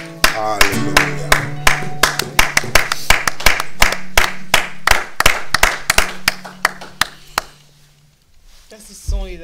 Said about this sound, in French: Ça, ce sont les acclamations d'un grand général qui est parti.